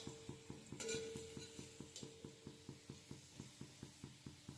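Potato fries cook in a pan with little oil, a faint steady sizzle under a regular ticking rhythm of stirring or pan contact, with a couple of brief utensil clinks.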